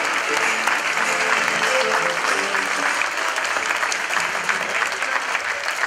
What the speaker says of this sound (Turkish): alkışlar yükselsin, yükselsin, zirveye ulaşsın